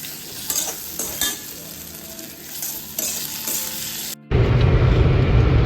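Potatoes frying in a pan with a close, bright sizzle and clattering stirs for several seconds, then an abrupt cut to a louder, steady, rumbling rush; nobody speaks.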